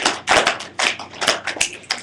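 A group of students clapping, slapping thighs and snapping in a practiced rhythm, a run of sharp uneven hits and pats fairly close, slightly ragged in timing.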